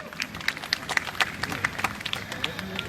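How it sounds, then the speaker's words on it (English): Audience clapping after a bird-of-prey show at Jurong Bird Park in Singapore, a scattered round of moderate applause with individual claps audible for a few seconds. "let's give them a round of applause, everyone"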